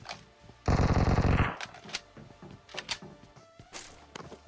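A Bizon submachine gun fires in BGMI, one loud rapid burst of close automatic fire lasting under a second, followed by scattered fainter shots, clicks and game noises.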